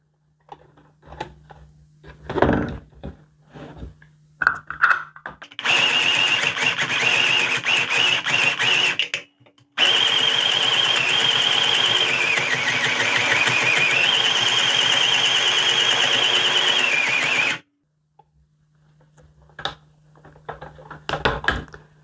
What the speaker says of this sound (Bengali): আমি আরেকটু সেলাই করে দেখিয়ে দিই আপনাদের।